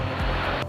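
The piston engine of a light aircraft drones steadily during a takeoff climb out of New York, a loud, close, continuous roar filling the whole brief moment.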